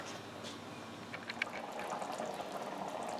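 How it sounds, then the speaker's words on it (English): Mushroom soup boiling in a pot, a steady bubbling hiss with scattered pops and small splashes, close and fairly quiet, growing slightly fuller toward the end. "Let it boil."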